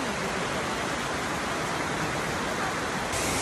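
A waterfall and rushing stream in an autumn forest pour out a steady, loud, broadband roar of water that fills the whole stretch without pause, with no voices over it.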